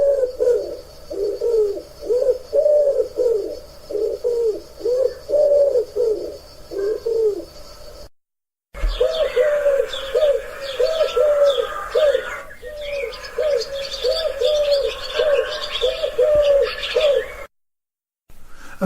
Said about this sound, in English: the first one you heard there was the wood pigeon